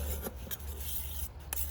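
A knife is drawn across a 600 grit sharpening stone, giving quiet, gritty rasping strokes at a quick, uneven rhythm, close up with no talk.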